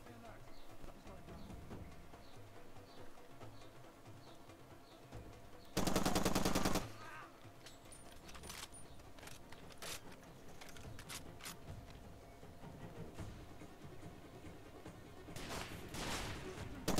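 Gunfire in Far Cry 2 during an assault on oil smugglers, a loud sustained burst of automatic fire followed by scattered single shots near and far amid low game ambience.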